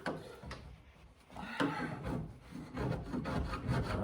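A scraper chips and scrapes thick Bondo body filler off a 1971 Dodge Charger under restoration, making close, continuous rough rasping and scraping with small knocks, fairly quiet and without talk.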